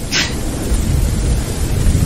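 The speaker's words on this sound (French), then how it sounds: "Là, il y a l'orage," A recorded thunderstorm plays as a dense, steady rumble of rain and low thunder, loud and continuous, with a brief higher crackle at the start.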